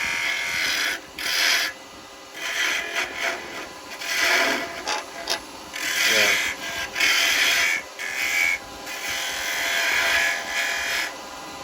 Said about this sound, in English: I'm just going to use the carbide just to bring this down.